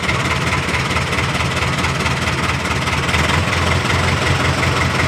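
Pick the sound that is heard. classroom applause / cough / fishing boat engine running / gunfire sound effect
fishing boat engine running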